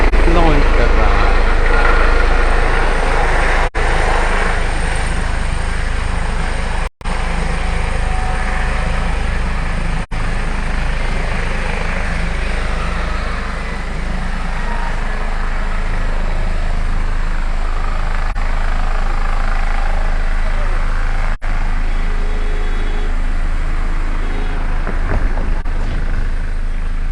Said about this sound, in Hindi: ये देखिए हमारे सीएम का हेलीकॉप्टर लॉन्च कर चुका है पीटीसी चौक पे।